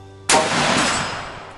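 A single sharp rifle shot with a hard crack, fired close by at a cup target, followed by a long decaying outdoor echo and no talking.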